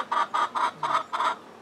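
Chickens in Malawi clucking, five short even bursts in a steady rhythm, close and fairly clear with no talking.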